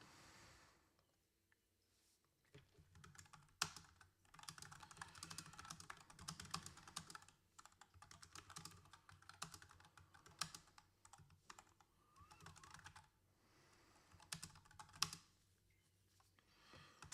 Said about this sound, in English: Sorry, I'm typing to chat.